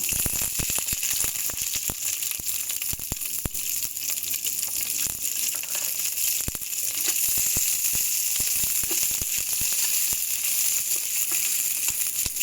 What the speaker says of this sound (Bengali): এখানে তেল গরম হয়ে গেছে, এইবারে টুকরো করা পেঁয়াজগুলো দিয়ে দেব